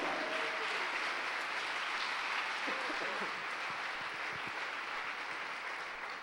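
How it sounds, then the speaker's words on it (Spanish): Sustained applause from a church congregation, dense and steady, with a few faint voices mixed in beneath the clapping. "Dele un fuerte aplauso al Señor"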